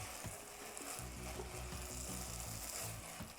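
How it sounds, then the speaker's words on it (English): Rice toasts in a pot, a steady close sizzle broken by rhythmic scraping and clicking as it is stirred, with no talk. "And kind of toast the rice a little bit."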